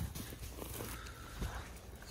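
Ranch horses shifting and stepping around a muddy, water-filled corral in Sonora at breakfast time, giving faint scattered thuds and hoof sounds over a low outdoor background.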